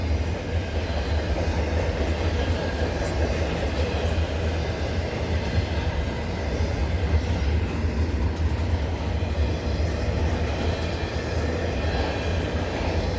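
A CN freight train rolls past at night on the York Subdivision, a steady, loud low rumble of railcars with faint wheel clatter that holds unbroken for the whole span, no voices.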